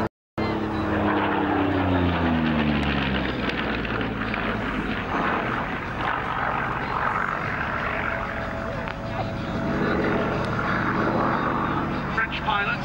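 Soviet-marked Yakovlev Yak-3U propeller fighter flying at the Abingdon airshow, its engine roaring loud and steady throughout with a rising and falling drone, wind and crowd noise mixed in.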